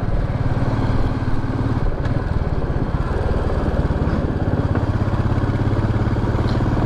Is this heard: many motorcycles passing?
yes